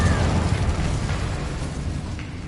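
A Depulso spell cast in Hogwarts Legacy, heard as a dense, loud burst with a rumbling low end that opens sharply and then trails off in a steady roar for a couple of seconds.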